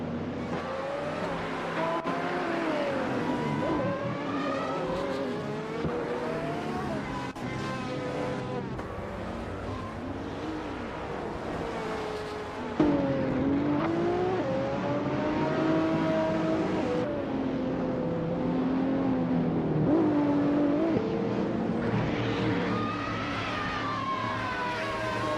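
Several race cars in a racing video game, their engines revving and shifting continuously over the whole stretch with rising and falling pitch, loud and steady with no talking.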